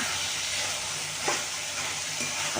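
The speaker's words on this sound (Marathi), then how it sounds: "ही भाजी अशी कालून परतून घ्यायची" A vegetable stir-fried in a pan without any water, producing a steady hissing sizzle close by, with a brief scrape of stirring midway and no speech.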